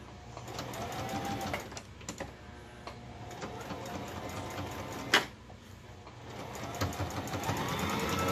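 A sewing machine back stitches fabric that anchors a strip of elastic, running in a fast, close mechanical chatter with brief pauses and restarts, including one sharp clunk midway, and no talking.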